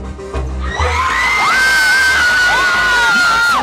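A crowd at a One Love Kenya event cheers, whoops and shouts loudly and continuously, with a single shrill voice rising and sustained above the roar of the gathering.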